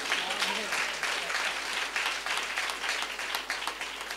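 Audience applause fills a church service hall, a steady broadband wash of many hands clapping throughout, fairly distant and even, with a faint voice briefly audible beneath it.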